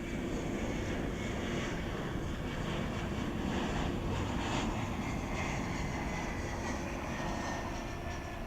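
Embraer 175 airliner landing at DFW airport in fog, a steady, dense roar of jet engines and rushing air that holds level throughout, with no voices.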